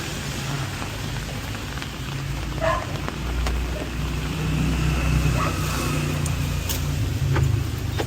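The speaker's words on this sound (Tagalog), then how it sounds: "ilang araw nang umuulan" Steady rain falling and pattering on surfaces outdoors, a continuous hiss, with a vehicle engine rumbling and a few knocks nearby.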